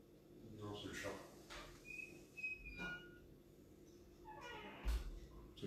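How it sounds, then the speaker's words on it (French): A grey and white cat meows a few times from the top of the stairs inside a house, fairly faint and intermittent, with people talking nearby and some household noises. "il y a un chat en haut des escaliers"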